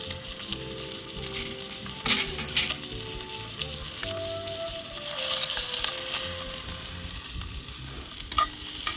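Steak searing in a hot pan with garlic and rosemary, a steady close sizzle and crackle with occasional louder spits and stirring, no voices.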